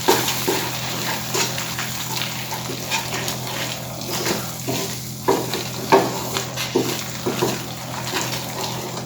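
Cooked pumpkin mixture with cardamom, nutmeg and salt stirred in a pan for an Indian sweet, a steady soft sizzle with irregular scraping and stirring strokes close by, no talking.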